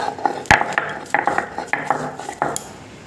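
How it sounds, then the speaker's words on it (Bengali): Green chillies being ground into a spice paste with mustard oil and salt, heard as a series of sharp knocks and scraping clinks at an irregular rhythm, close and moderately loud with no talking. "4টে লঙ্কাও বেটে নেব।"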